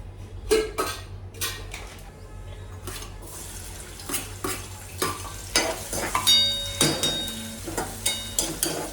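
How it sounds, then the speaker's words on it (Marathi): Soaked masoor dal frying with onions in a pan: a steady sizzle broken by repeated scraping and clinking as a spoon stirs against the pan, close and fairly quiet. "कांदे वगैरे टाकून छान हिला मोकळी फ्राय करून टाकते"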